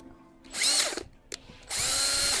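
A power drill drilling holes in a cargo carrier whirs in two short bursts, revving up and stopping, with a brief click between them; close and fairly loud, no voices.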